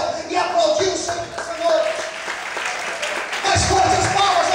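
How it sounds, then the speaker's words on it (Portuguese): A church congregation claps in praise during a sermon, a rolling wave of applause under a pastor's voice and scattered shouts, rising and falling, then building louder near the end. "Quantos podem levantar a mão para o céu e aplaudir o Senhor?"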